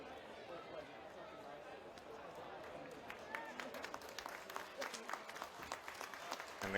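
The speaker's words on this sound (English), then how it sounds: "the crowd claps in appreciation for the players" Crowd applause at a men's football bowl game during an injury timeout, a steady wash of clapping from a large distant crowd that swells toward the end, with voices mixed in.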